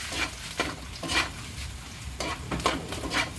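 Ginger being stirred in a hot cooking pan, giving a series of short scraping, sizzling strokes at an irregular rhythm, close and moderately loud, with no talking.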